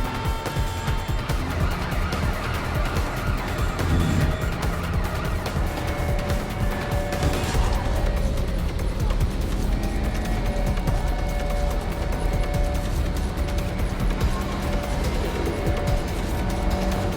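A car chase with vehicle ramming in Watch Dogs Legion: a loud, continuous engine roar with tire squeals, a heavy impact partway through, and ongoing driving noise that stays dense and close for the whole stretch, with no talk.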